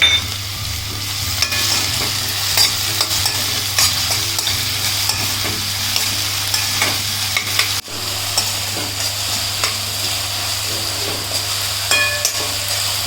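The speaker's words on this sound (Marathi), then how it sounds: "टॉमॅटो टाकते परतून घेते मीठ टाकते" Tomatoes are sautéed with salt in a pan after the onions turn red, giving a steady close sizzle broken by the scrape and clatter of a spoon stirring, with no talking.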